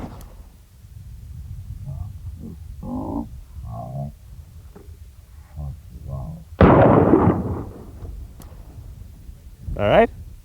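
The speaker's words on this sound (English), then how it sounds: "So you come back here, shoot from here." A single loud handgun shot is fired at a steel plate target during concealed carry practice, a sharp crack partway through, with someone talking before and after the shot.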